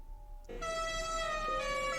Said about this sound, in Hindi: तभी पीछे से ट्रक ने चेतन को हॉर्न दिया।